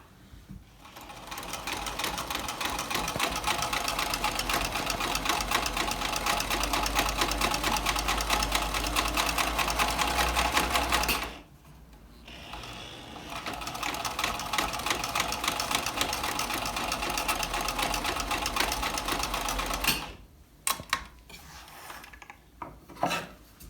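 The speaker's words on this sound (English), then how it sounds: "So now I'm repinning them all, but just sew a circle." A sewing machine stitches layered cotton fabric rounds in a circle, running in a loud, steady, close whir for about eleven seconds, then pausing briefly before a second long run and a few short final bursts.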